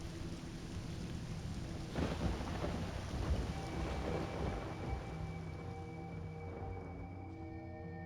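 A video game thunderstorm delivers low thunder rumbles and steady rain hiss, with a stronger roll near the middle and faint tonal game sounds toward the end, quiet and without talk.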